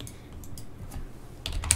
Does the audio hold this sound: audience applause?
no